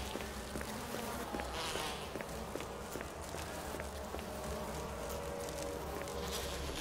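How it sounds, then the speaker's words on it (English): A swarm of bees buzzing in the Resident Evil video game, a dense, steady droning hum filling the whole stretch with faint scattered clicks and taps mixed in, no talking. "It's bees."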